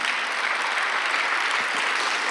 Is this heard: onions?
no